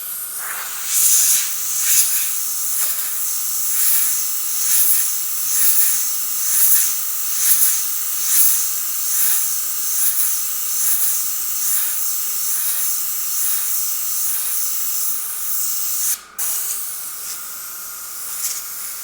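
Airbrush spraying paint over a paper mask: a continuous, close airy hiss that pulses gently with short bursts and one brief cutoff near the end.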